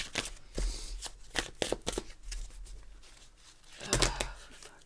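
A deck of tarot cards is shuffled close by in repeated quick riffles and slaps, crisp papery bursts with brief pauses between them, fairly quiet overall.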